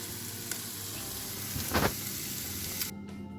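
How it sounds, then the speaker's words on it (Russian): Steady sizzling of eggs with vegetables, beans and onion frying in a pan, with a brief louder burst of crackle midway and a soft clatter near the end. "Решила я чуть-чуть жарить яички и добавить туда овощей."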